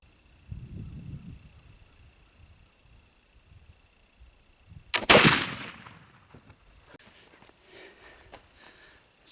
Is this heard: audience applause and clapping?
no